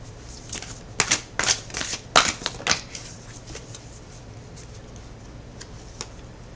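Tarot cards are shuffled and drawn: a quick run of crisp, close riffles and slaps over the first few seconds, then sparser soft taps and flicks.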